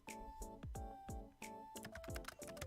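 Keys click in quick bursts on a keyboard in the video game A Date with Death, close and soft, under an electronic tone.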